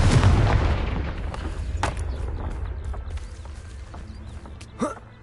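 A Confringo fire spell in the game Hogwarts Legacy, heard as a loud booming blast that starts hard and rolls off into a long, slowly fading rumble, with a brief extra hit near the end.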